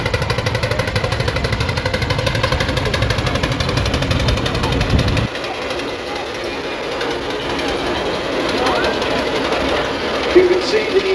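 The Dreadnought traction engine runs steadily at a show, a continuous mechanical chugging and rumble that stays loud throughout, with a heavy low thumping in the first half that drops away midway.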